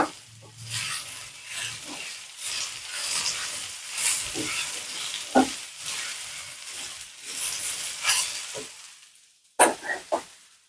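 Sliced onions for Kerala-style onion thoran sautéing and being stirred in a pan, a steady soft sizzle broken by spoon scrapes and clanks, close and moderately loud, with a sharp clatter near the end.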